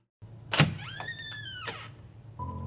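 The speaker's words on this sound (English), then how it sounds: "I twisted the knob and opened the door to room 7." A door opens as an effect in a creepypasta horror narration: a sharp knob click, then a long creaking whine of hinges with a dull thump and a low hum at the end, with no voice.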